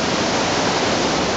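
A loud waterfall, Wahkeena Falls in the Columbia River Gorge in the rain, roars as a dense, steady broadband rush heard up close with no other sounds.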